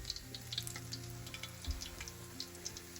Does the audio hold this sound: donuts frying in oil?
yes